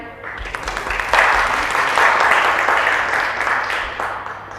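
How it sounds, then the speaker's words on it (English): A room of guests gives a round of applause at a civic reception honouring the High Sheriff of Bristol: dense, steady clapping that swells and holds at moderate loudness throughout. "So let's have a round of applause for him."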